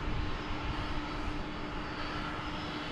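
A steady, broadband jet engine roar with a faint tonal whine, holding even and fairly loud throughout as an MD airliner powers up for takeoff at DFW Airport.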